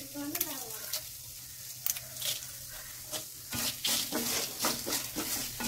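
Dried red chillies fry in a pan for an Andhra-style stuffed brinjal curry. A soft, steady sizzle is broken by sharp, close scrapes and clinks as they are stirred at irregular moments.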